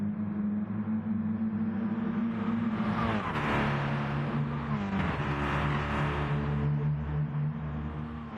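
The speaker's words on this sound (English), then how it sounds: "Greatness has the run on Mullock using the slipstream down the front straight" Race cars in a racing video game roar along a front straight, several engines droning steadily with one pitch climbing and shifting as cars slipstream close together, loud and continuous with no talk.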